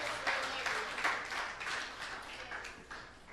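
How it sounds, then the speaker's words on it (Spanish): A church congregation applauding with scattered, fairly quick hand claps that swell and fade over a few seconds, moderately distant, with a faint voice mixed in. "Si le va a aplaudir, apláudele con fuerza."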